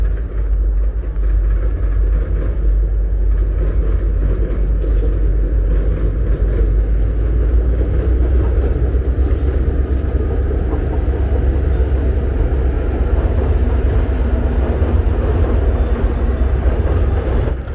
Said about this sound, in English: Oh, here goes a train.